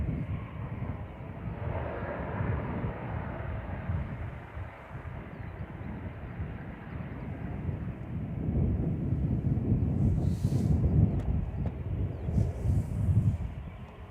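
An ATR turboprop taxiing out at Manchester Airport makes a low, rumbling propeller drone that swells louder toward the end, with wind buffeting the microphone and no talk.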